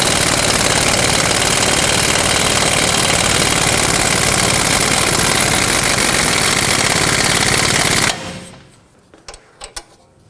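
A loud, continuous, buzzing power tool drives a control arm bolt into the rear suspension of a 2005-2010 Pontiac G6 for about eight seconds, then stops abruptly, leaving a few faint metallic clanks.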